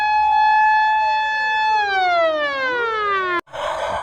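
A toy siren wails in steady electronic tones that slide downward as it winds down, then cuts off abruptly, followed by a short burst of noise.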